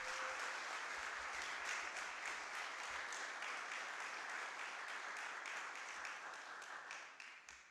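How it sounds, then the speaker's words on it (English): Audience applause for lecturer Dr. Peter Tarlow at a CMU lecture on cross-border security and tourism, steady dense clapping from a crowd lasting throughout and tapering slightly at the end. "give Dr. Tarlow a CMU applause for the work that he has done"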